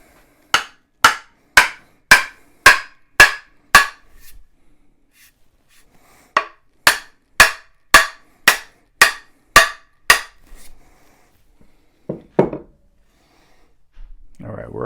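Two runs of sharp, evenly spaced hammer blows driving a rafter axe head onto its handle, about seven each, loud and close, separated by a short pause, with faint rustling and a brief voice near the end.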